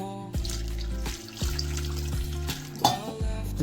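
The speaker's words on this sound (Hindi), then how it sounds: "अब इसमें हम पानी डालेंगे।" Water splashes into a bowl of maida dough and is stirred and mashed by hand while making gluten for soya chaap, giving soft, close wet sloshing in a few uneven strokes.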